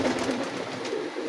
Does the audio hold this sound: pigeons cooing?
yes